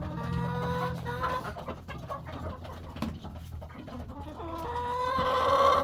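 Chickens clucking and calling around a feeding trough on a small farm with ducks, several birds close by with repeated clucks and a rising squawk near the end.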